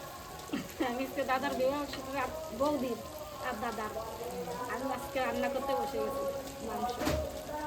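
Spices and meat frying for a curry, giving a steady close sizzle and crackle throughout, with occasional stirring scrapes and several voices talking over it.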